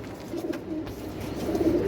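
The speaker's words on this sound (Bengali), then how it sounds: "একটা হাউস পিজন নর কবুতর" A male house pigeon coos twice, low soft throaty calls close by, with a pause between them over quiet background noise.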